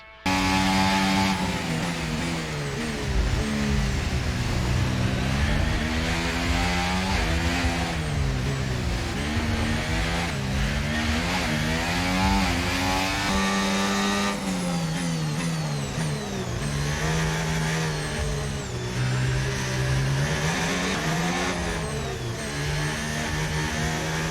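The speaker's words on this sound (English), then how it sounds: "The sound of your vehicle driving has also seen a significant upgrade in quality" Race car engine in the F1 25 video game, a loud continuous high-revving whine rising and dropping through gear changes and braking for over twenty seconds, close and alone without any speech.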